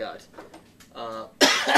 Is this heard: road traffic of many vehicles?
no